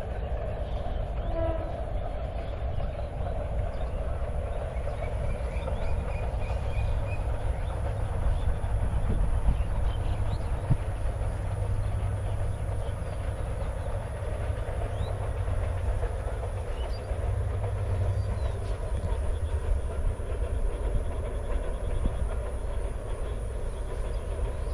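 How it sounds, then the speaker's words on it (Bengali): A morning train bound for Dhaka passes near a village, a steady low rumble and rolling rail noise heard from a moderate distance, with a brief horn early on and no voices. "ট্রেনের শব্দ শোনা যাচ্ছে।"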